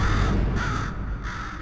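A crow in the video game Portal 2 gives a few loud, harsh caws in quick succession, close and alone.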